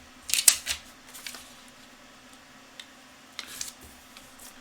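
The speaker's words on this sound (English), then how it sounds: "I'm shuffling the magic post-it notes" A stack of post-it notes is shuffled by hand, giving a few brief papery flicks and rustles in quick clusters, close and crisp against a quiet room hum, with no speech.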